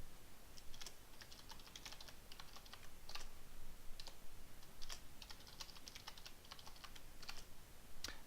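Keys tapped on a computer keyboard in quick, uneven bursts while a password is entered, soft close-up clicks with short pauses between groups and no voices.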